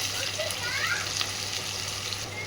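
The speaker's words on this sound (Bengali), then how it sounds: "এবার পেঁয়াজটা লাল করে ভেজে নেব" Chopped onion and green chilli frying in ghee in a pan for fenugreek mutton, a steady close sizzle with faint stirring, and a voice talking briefly over it.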